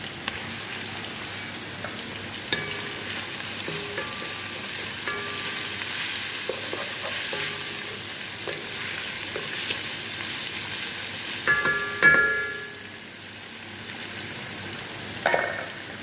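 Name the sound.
garlic frying in a pan for biryani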